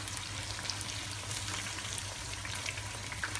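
Tofu frying in hot oil, a steady close-up sizzle with dense crackling spatter that holds evenly throughout, with no voices.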